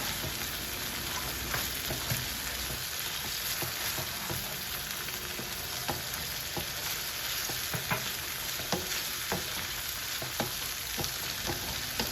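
Spices such as red pepper flakes and black pepper stirred through a dough and tomato mixture in a hot frying pan: a steady close sizzle with irregular scraping clicks from the spoon, no voices.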